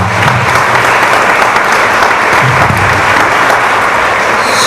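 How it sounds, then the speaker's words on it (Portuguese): A congregation applauds at an evangelical church choir congress in Guarulhos, steady dense clapping that fills the space, loud and continuous from start to finish. "Aplauda Jesus pela vida dos irmãos"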